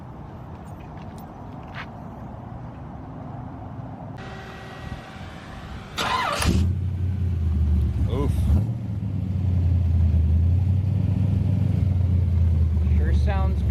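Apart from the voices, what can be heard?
1932 Ford Roadster engine running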